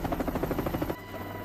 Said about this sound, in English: The helicopter approaches slowly, hovers over the load